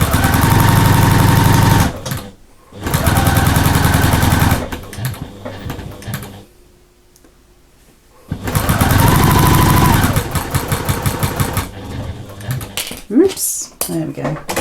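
A sewing machine runs in loud bursts while stitching a quarter-inch seam to attach sashing on a lap quilt, stopping and restarting, with a quiet pause in the middle and brief talk near the end.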